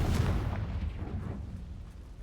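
A Confringo explosion spell in the video game Hogwarts Legacy, a single deep boom with a rumbling tail that decays over about two seconds, heard alone without talk.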